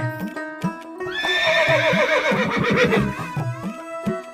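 A horse in a stable gives one long, loud whinny that rises and wavers for about two seconds, framed by a few short, quieter tones.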